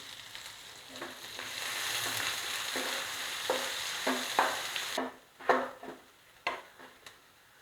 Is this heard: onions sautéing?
yes